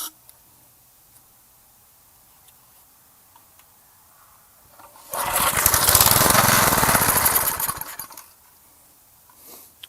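A gas edger's engine cranks over for about three seconds, giving a loud, fast rhythmic chugging that stops without catching, preceded and followed by near silence.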